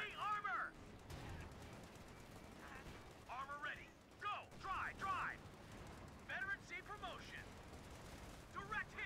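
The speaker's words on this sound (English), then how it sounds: "Fire main gun!" Tank main gun fire and battlefield noise in the World War II strategy game Company of Heroes 2, with booming bursts under loud shouted voice lines from crew and soldiers.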